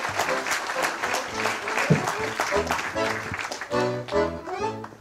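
An audience claps loudly and steadily after an accordion performance, with harmonic tones and voices mixed in under the applause.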